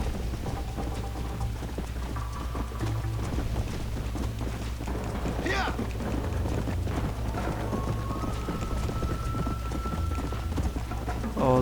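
Horse hooves clip-clop steadily in Red Dead Redemption, a continuous rhythmic beat over a noisy bed of rain-like hiss, with a few brief tonal whistles and swells.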